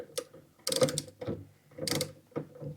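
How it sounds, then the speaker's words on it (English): A torque wrench set to 4.5 newton metres ratchets as it tightens bolts on an NHX-10 hybrid inverter, giving a few close, crisp clicking bursts with short pauses between them. "So that's what I have my torque wrench set to."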